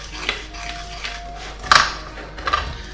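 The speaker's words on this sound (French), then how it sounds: "Mais je n'hésite pas à vraiment bien mélanger." A spoon stirs a speculoos ice cream mixture in a dish, giving a few scraping clinks and taps against the container, with one sharp knock partway through and another near the end, all close and fairly quiet.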